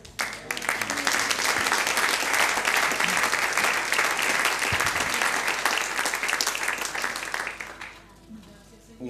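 A church congregation gives a warm round of applause for a brother after his testimony, thick continuous clapping lasting about eight seconds before thinning out, with faint voices mixed in.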